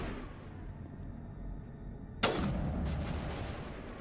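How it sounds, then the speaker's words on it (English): Gunfire in Mass Effect 1, a single loud sharp shot cracking out after quiet rumbling background, followed by a sustained noisy wash of firing and effects. "Please continue shooting it."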